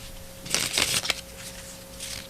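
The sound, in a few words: shuffling a deck of cards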